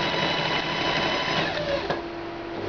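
A sewing machine stitches a polar fleece dog coat in a steady, close, continuous motor whir with rapid needle rhythm and a brief change in pitch near the end as the stitching slows.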